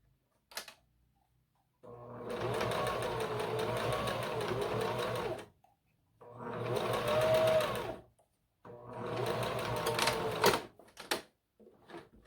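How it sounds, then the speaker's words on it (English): A sewing machine runs in three sustained bursts of steady stitching with short pauses between, stitching all around an opening in fabric, close and fairly loud with no talk. "So you can see I sewed all around the opening."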